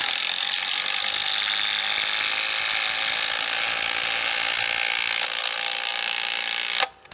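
Skil and DeWalt impact drivers running together on their high setting, a loud continuous rapid hammering whine holding steady for nearly seven seconds before cutting off abruptly.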